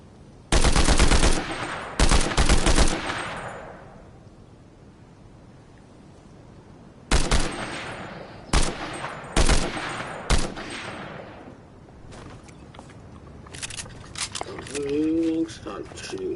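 Bursts of gunfire in a Fortnite solo match, several loud rapid volleys in clusters with quieter gaps between them, and a voice talking briefly near the end.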